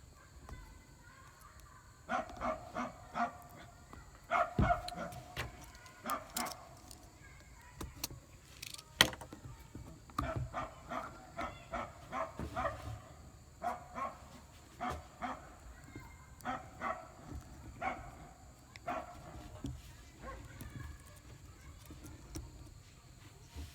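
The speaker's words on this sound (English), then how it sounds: "the dog's barking at him constantly" A dog outdoors barks repeatedly at a boy riding his bike, bursts of yaps coming in irregular clusters at middle distance, with faint jangling and background noise between the barks.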